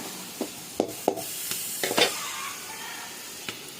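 Prawns cooking in a pan, a soft sizzle under a handful of sharp spatula taps and scrapes spaced irregularly, close up and fairly quiet.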